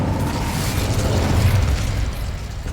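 An Incendio fire spell cast in the Hogwarts Legacy video game bursts out as a loud, sustained roaring blast with crackling, rumbling texture lasting nearly three seconds, without speech.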